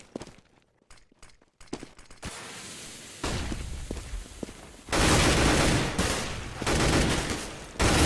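Gunfire in a CS:GO match, with a sniper rifle fired without the scope amid other shots, cracking sharply over loud, dense game noise that swells in bursts after a quiet opening.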